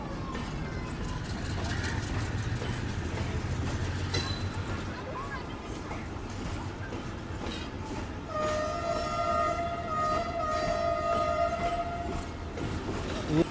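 A Pakistan Railways train, once a premium service on a Sindh route, rumbles past close by with rattling wheels and a sustained horn blast later on, while people talk over the noise.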